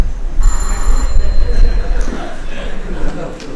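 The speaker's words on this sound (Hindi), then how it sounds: "सर हाँ टेलीफोन की बेल।" Telephone bell in a Pakistani stage comedy drama, heard as a steady high electronic ring in bursts over the first second, set against a noisy room with voices and low rumble.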